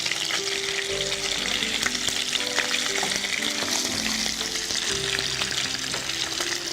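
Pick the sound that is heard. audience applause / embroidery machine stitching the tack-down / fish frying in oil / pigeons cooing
fish frying in oil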